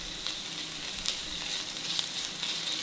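Onion with ginger-garlic paste frying in a pan, a steady close sizzle with soft crackles and faint stirring scrapes throughout, no talking.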